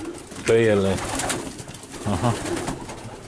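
Racing pigeons in a loft coo nearby, with one full throaty coo followed by a shorter one as someone speaks over them.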